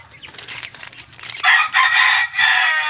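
Forty-five-day-old broiler chickens on a farm in hot midday weather cluck softly, then break into loud, close, sustained crowing in several strong bursts.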